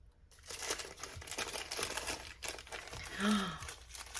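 Close crinkling and rustling of packaging in bursts, with a short voiced sound near the end.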